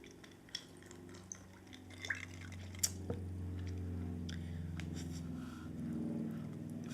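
A double shot of gin is poured over five ice cubes in a glass, with faint clinks and a soft liquid trickle, close and quiet against low background hum.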